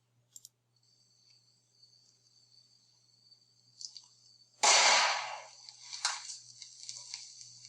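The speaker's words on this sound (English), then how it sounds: "That's right, just sodium metal dropped into water." Sodium metal dropped from a stand into a small kiddie pool of water erupts in a single loud, sudden explosive burst, followed by a few seconds of crackling, hissing debris after faint clicks beforehand.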